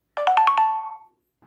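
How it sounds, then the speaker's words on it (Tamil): A phone's battery-charge alarm ringtone plays a short, loud, rising melody of about five bright electronic tones that blend into a sustained note and fade, followed by a brief faint sound. "இப்படி வந்து உங்களுக்கு ஒரு அலாரம் அடிச்சிடும்"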